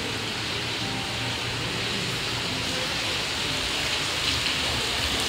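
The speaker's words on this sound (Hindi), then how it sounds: "कितना बारिश हो रहा है." Heavy rain pours steadily outside, a dense, constant hiss of drops on surfaces with no breaks, fairly loud and close, with no talking over it.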